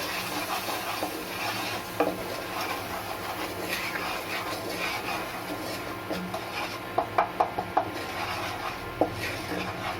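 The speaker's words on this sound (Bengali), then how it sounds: "1/2 চামচ লবণ, আর 1/2 চামচ হলুদের গুঁড়ো দিলাম। দিয়ে খুব সুন্দর করে এটাকে মিশিয়ে নেব।" Eggplant pieces stirred with salt and turmeric in a pan for dahi begun, a steady scraping and rubbing of utensil against the pan with a few sharper clinks toward the end, close and moderately quiet, no talking.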